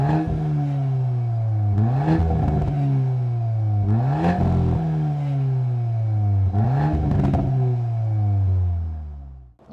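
A 2022 Volkswagen Golf R's engine revs hard three times through its four exhaust tips, each rising to a roaring exhaust peak and falling back to a rumbling idle, loud and close.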